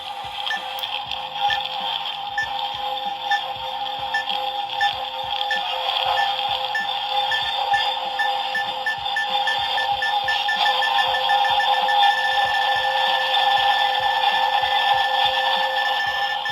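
A Ghostbusters PKE meter ghost-trap toy whirs steadily in a spun-up state while a rapid electronic beeping pulses throughout. The sound is close and continuous, with no voices over it.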